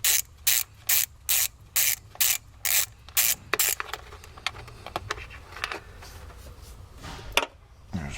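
Ratchet with a 10mm socket loosening valve cover bolts on a full-size Range Rover L322, a quick series of about a dozen crisp, evenly spaced clicking bursts close up, then quieter scattered metal handling sounds.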